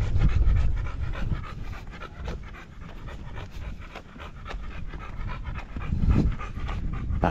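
A dog panting steadily and rapidly up close, quick rhythmic breaths with a faint whimper, no talking.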